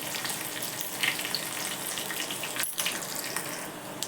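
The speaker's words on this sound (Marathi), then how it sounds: "फोडणी चांगली तडतडली बघा" Hot oil with curry leaves crackles and sizzles steadily throughout as a tempering for poha, a dense spattering hiss with small pops, close by and with no voices.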